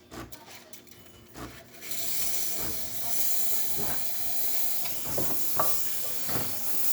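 A Breville espresso machine's steam wand, just serviced after a full tune-up, hisses in a steady, loud rush that starts after a couple of seconds and continues to the end, with some scraping noises over it.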